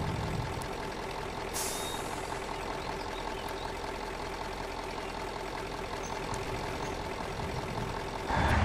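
Truck with a trailer in the mud-driving video game Spintires, a steady engine rumble running throughout with a sharp air-brake hiss near the start and another burst at the end, no talking.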